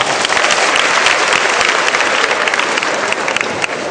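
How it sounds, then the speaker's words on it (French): Loud, dense applause from a crowd at a live stage performance, applauding for women: a thick, continuous roar of many clapping hands, close and sustained with no pauses. "Applaudissez pour les femmes"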